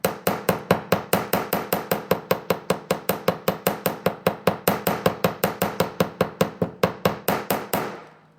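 Wire being hammered for a wire-wrapped bracelet: a fast, even series of about forty sharp metallic taps, close and loud, stopping abruptly with a short ring at the end.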